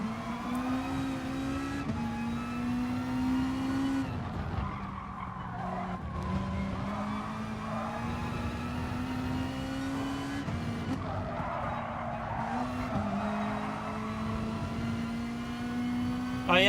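Mazda race car in the GT Sport racing game braking hard with sustained tire squeal over a steady engine drone, loud and continuous, shifting in pitch as the car slows and turns.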